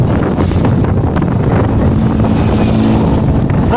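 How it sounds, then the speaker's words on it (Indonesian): Strong gusting wind on a bridge buffets the microphone in a loud, continuous roar with low rumbling throughout and no speech. "anginnya sangat kencang ini"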